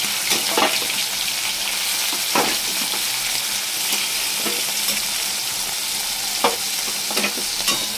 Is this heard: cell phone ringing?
no